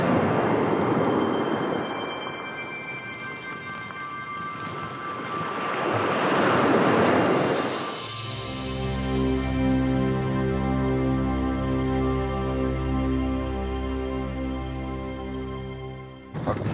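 Waves washing onto a cold beach in Magadan, with surf and gusty wind buffeting the microphone, then a steady tonal rumble as if a vehicle passes nearby. No talk.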